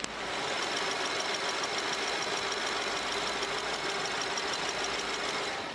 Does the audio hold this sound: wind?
no